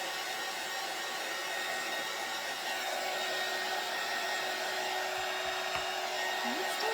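A hair dryer blows steadily at close range while drying a handmade Christmas craft door hanger, a continuous loud whooshing hum with no talking.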